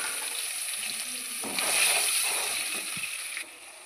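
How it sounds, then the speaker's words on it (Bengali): Chopped onion goes into hot oil in a kadai for a spicy tilapia fish curry, and a steady close sizzle follows with some stirring and scraping in the pan. "পেঁয়াজ কুচি দিয়ে দেবো"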